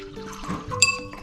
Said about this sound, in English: First, you fill every other cup with water.